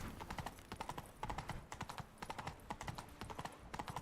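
Horse hooves clop in a fast, steady galloping rhythm in The Witcher 3 video game, close and even throughout with no talk over them.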